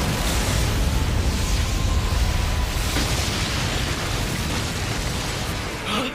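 An anime explosion from a Bomb Blast Dance attack fills the clip with a loud, sustained roaring blast that holds steady for about six seconds with no break.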